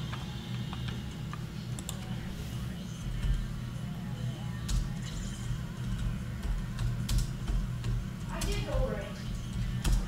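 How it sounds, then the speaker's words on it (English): Faint, irregular clicking of keys being typed on a computer keyboard, with background noise and some talk around it. "Sorry if you can hear me typing, that's my fault."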